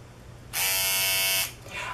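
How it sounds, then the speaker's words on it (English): Rechargeable wet-dry electric shaver switched on for about a second, a loud high-pitched motor buzz that starts and stops abruptly, followed by a fainter second buzz, no talking. "It has a wet dry shaver."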